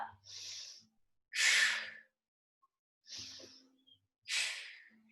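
Heavy breathing during a compound weight lift in a total-body workout: four distinct close breaths in a slow in-and-out rhythm, alternating softer inhales with louder, forceful exhales, alone and without talk.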